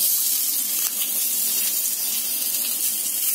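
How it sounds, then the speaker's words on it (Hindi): Potato filling for samosas frying in a kadhai: a steady, even sizzle and hiss with no pauses, close and moderately loud, with no voices. "तो ये जो आलू हमने रेडी किया अब इसको हम कढ़ाई में डाल के भूनेंगे।"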